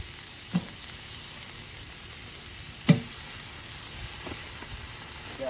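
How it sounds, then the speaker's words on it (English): Fresh meat sizzles steadily on a griddle attachment set on a Weber kettle grill, a continuous close hiss broken by a couple of sharp pops and crackles. "You can hear the sizzle when you first put it on."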